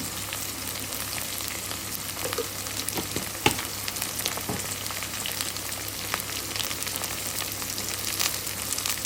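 Okra frying in a pan with turmeric for pakoda-style okra curry, a steady, even sizzle with occasional sharp pops and soft stirring knocks, close and continuous throughout.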